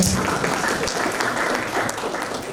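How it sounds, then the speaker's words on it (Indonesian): An audience at a university humanities faculty forum applauds, a dense, steady wash of many hands clapping continuously, fairly close and even throughout, with no talk over it. "Tepuk tangan untuk semua yang ada di sini."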